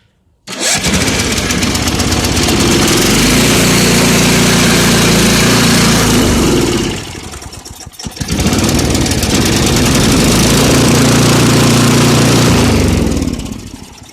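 A 5 hp Tecumseh small engine, freshly repaired and nearly out of gas, starts and runs loud and steady at full throttle, dips briefly about halfway, then surges back to a strong, even roar.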